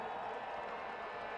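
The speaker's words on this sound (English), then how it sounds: "Not a big crowd in the snow, but they're making a lot of noise." A small crowd at a snowy outdoor Canadian football game, Hamilton Tiger-Cats at Calgary Stampeders, makes a steady, dense roar of cheering, heard at a distance and fairly faint, with no single voice standing out.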